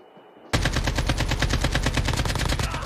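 Rapid automatic gunfire from an AK-47 in Call of Duty Mobile battle royale, a loud sustained burst of evenly spaced shots starting abruptly after a quiet moment and continuing to the end.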